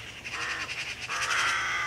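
Magpies chattering agitatedly in the UK countryside, a rapid rattling series of harsh calls that runs almost continuously, moderately close, with no talking.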